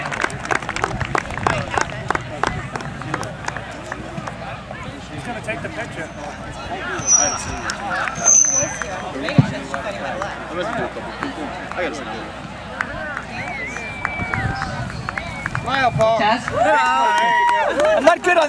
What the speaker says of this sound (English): let's just give him a big round of applause